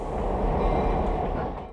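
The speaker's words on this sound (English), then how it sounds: "332 is backing out of the museum onto the North Shore Scenic Railroad" Steam locomotive 332 backs out of a museum onto the North Shore Scenic Railroad in Minnesota, a loud, continuous, close rumble of the train moving that fades slightly at the end, with no voices.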